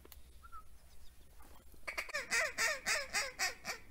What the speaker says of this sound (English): Wood ducks.